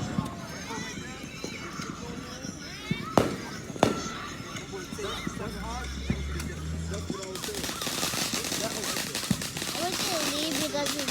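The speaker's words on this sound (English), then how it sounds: "Yeah, I recorded fireworks." Fourth of July fireworks popping and crackling at a distance, faint scattered bangs mixed with a steady crackle, heard under nearby chatter and background noise.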